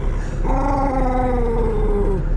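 A dog lets out a single drawn-out, low grumbling growl that wavers and trails off, close by over a steady background hum.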